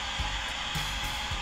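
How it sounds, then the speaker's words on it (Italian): A vacuum cleaner sound from a phone app: steady motor whir hums continuously at moderate volume, with a few low thumps underneath and no voices. "Qua ad esempio abbiamo aspirapolvere"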